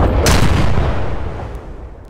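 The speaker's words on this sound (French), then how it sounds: "Là c'est d'artillerie." An artillery shell explodes in the video game Arma 3 with one loud, close, booming blast that rolls into a long, fading rumble.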